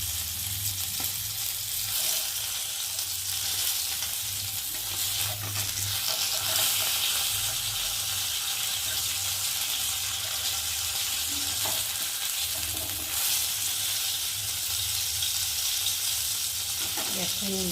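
Fish frying in hot oil in a pan gives a steady, close sizzling hiss that runs unbroken throughout at a fairly even level.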